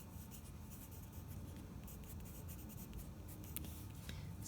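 Graphite pencil held flat against paper, shading a broad patch with a steady, continuous scratchy rubbing heard up close and alone, with a few brighter strokes near the end.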